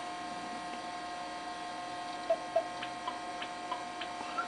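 Shareware paddle-and-ball game running on a Macintosh Classic II, giving a few short, thin blips and ticks as the ball bounces, spaced irregularly over a steady low hum of the machine.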